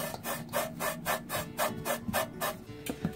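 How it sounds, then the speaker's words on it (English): Lemon rind being grated, a rhythmic rasping scrape repeated about ten times in quick regular strokes, close and quiet. "am going to grate the rind of a lemon."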